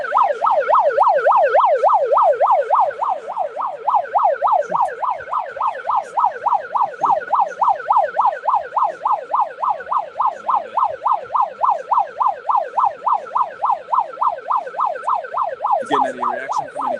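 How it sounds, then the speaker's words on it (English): A wailing siren sweeps up and down in fast, regular cycles for a long stretch, loud and close, with a brief burst of noise near the end. "making that siren sound"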